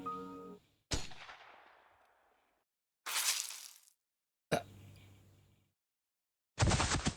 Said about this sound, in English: There was another sudden gunshot.